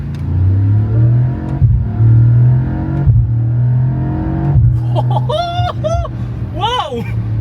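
Mercedes-AMG GT 63 4-door accelerating hard on a straight road near a village, a deep engine roar climbing through gears with shifts, heard from inside the car, followed by excited exclamations from the occupants.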